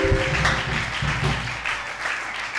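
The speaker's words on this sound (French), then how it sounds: "Battez les mains et on acclame bien le Seigneur." A church congregation claps hands together in a dense, steady burst of applause at close range, lively and continuous throughout with no voices standing out.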